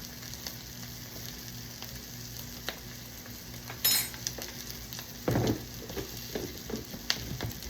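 Flour being stirred into vegetables frying in a pan, a low sizzle under a few louder scraping and stirring strokes, close by with no talk.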